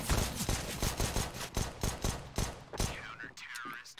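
Rapid bursts of gunfire from a CS:GO competitive match crackle in quick succession, a dense series of sharp shots that thins out toward the end, with game ambience behind.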